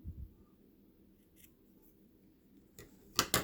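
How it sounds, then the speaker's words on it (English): Scissors snip crochet yarn close to the finished work of a teardrop earring. Two or three quick, crisp cuts come near the end after a quiet stretch, close up and alone. "And then I'm just going to cut it really close."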